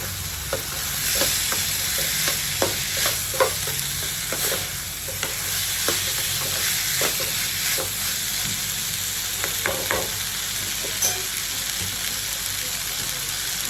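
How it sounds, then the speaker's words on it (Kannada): Spices and salt frying in oil in a home kitchen while being stirred, a steady sizzle broken by repeated scraping strokes of the spoon at an uneven rhythm, close and fairly loud. "ಈಗ ತಿರುಗಾಡ್ತೀನಿ ನೋಡಿರಿ ಸ್ವಲ್ಪ ನೀಟಾಗಿ ತಿರುಗಾಡಬೇಕು"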